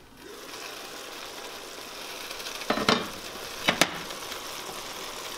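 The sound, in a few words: mushrooms and carrots cooking in a covered pot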